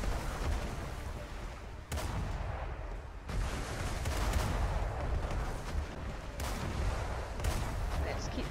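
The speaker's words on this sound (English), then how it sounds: "Use the cannon skills to attack the pirates." Ship cannons firing at pirates in the video game ArcheAge, a dense continuous barrage of booming blasts with sharp onsets near 2, 3.3 and 6.4 seconds, loud and sustained throughout.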